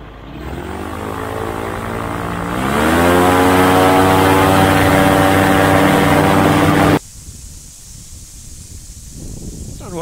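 Microlight aircraft engine revs up from a steady drone to a loud full-power roar during the takeoff run, holding strong for several seconds before cutting to a much quieter, distant hum.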